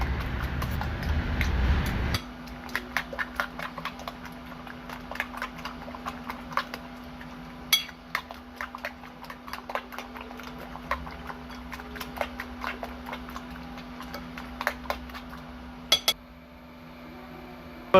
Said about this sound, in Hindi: और इन सब चीज़ों को अच्छी तरह से मिक्स कर लेंगे।